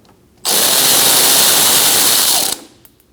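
Tool spinning out a 10 mm bolt from a Toyota Corolla inner fender liner, one continuous loud buzzing rattle for about two seconds, close up, followed by a few faint clicks.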